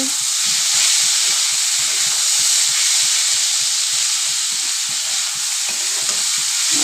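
Potatoes frying over medium gas in a kadai, a loud continuous hiss and sizzle with repeated scraping strokes of stirring, no talk.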